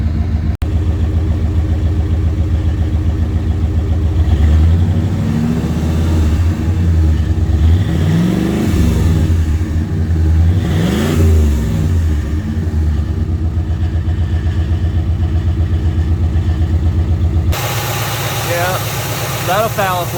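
A Chevrolet Impala engine with carbon-fouled plugs runs steadily, rising through a few revs and settling back, heard close and continuous with talk over it.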